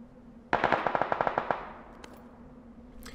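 Burst of automatic gunfire in the video game PUBG: about ten rapid, loud shots in an even rhythm over a second, followed by a couple of fainter distant shots.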